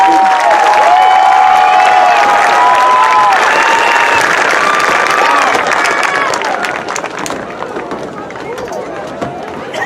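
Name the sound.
applause for a row of graduates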